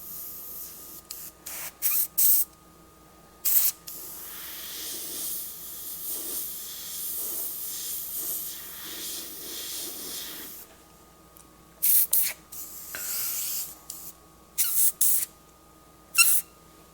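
Airbrush spraying black and grey paint on a leather saddlebag, short hissing bursts of varying length with a softer compressor-like hum between them, close and crisp, no voices.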